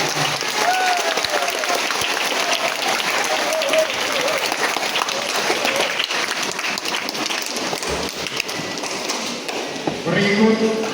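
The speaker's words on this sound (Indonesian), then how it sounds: "Kita tepuk tangan untuk Pak Uskup." Enthusiastic applause for the bishop at a Palm Sunday parish celebration, dense continuous clapping from a large crowd that carries on steadily for the whole stretch.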